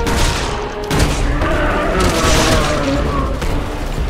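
Rapid gunfire from Resident Evil 6 fills the clip in dense, loud bursts with heavy thumps, running continuously under busy game noise.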